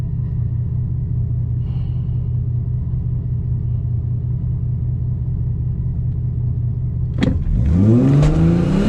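A Mercedes SLK32 AMG idles with a steady low rumble, then its engine roars up hard with rising revs as it launches in a race against a Tesla Plaid, loud and close.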